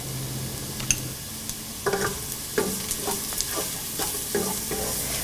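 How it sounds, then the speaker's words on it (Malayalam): Garlic fries in oil in a pan for pickle while a spoon stirs it, giving a steady sizzle under repeated scraping clacks of the spoon against the pan, close and without talk. "വെളുത്തുള്ളി നന്നായി വഴന്ന് കഴിയുമ്പോൾ ആവശ്യത്തിന് ഉപ്പിട്ട് മിക്സ് ചെയ്യുക."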